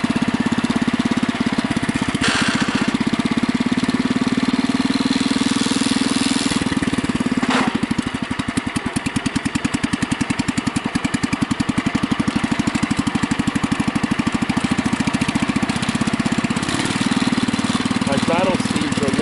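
Husky 600 engine running and idling, a loud, steady, rough motor drone with a rapid pulsing beat throughout, dipping slightly midway, while a person talks over it.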